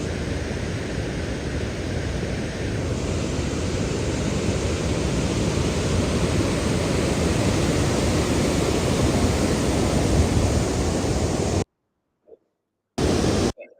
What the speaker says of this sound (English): That's one perspective from the waterfall.